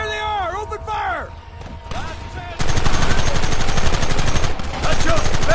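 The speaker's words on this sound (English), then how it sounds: "There they are! Open fire!" Rapid gunfire from a firefight in Red Dead Redemption on PS5, sparse at first under shouted voices and game music, then a sustained dense barrage of overlapping shots from about halfway on.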